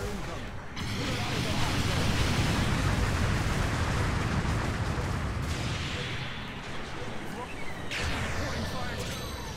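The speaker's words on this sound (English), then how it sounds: "The enemy took damage from that supporting fire." Supporting artillery fire pounds in a mobile suit video game, a sustained, loud rumbling barrage of blasts that roars almost continuously with a few sharper impacts, and a voice speaks over it.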